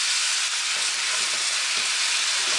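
Red snapper frying in a pan with vegetables: a loud, dense, continuous sizzle and crackle of hot oil, steady throughout with no talk.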